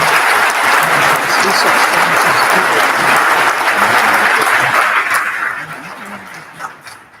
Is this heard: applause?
yes